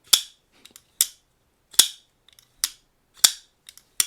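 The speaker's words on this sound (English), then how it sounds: "this sound is the best Shirogorov sounding knife I've ever tried" Shirogorov Custom Division F5 Silk Slim pocketknife flipped open and closed repeatedly, sharp crisp metallic clicks in an even rhythm about once a second with faint small ticks between, close and clear with no speech.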